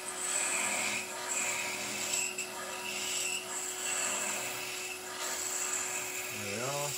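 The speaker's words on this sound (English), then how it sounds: "A little bit of a side scrape from that lovely skew." A skew chisel side scraping wood on a lathe, a steady whining, buzzing hum of the spinning piece with slight surges in intensity, and a brief voice near the end.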